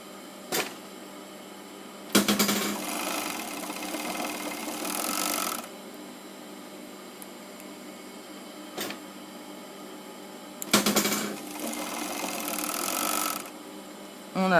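An industrial overlock serger runs in two bursts of rapid stitching, each lasting about three seconds, with quieter pauses and sharp clicks between them.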